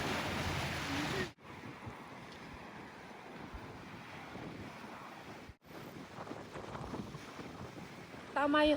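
Strong wind buffets the microphone in a steady roar by the sea, with faint surf and distant voices underneath.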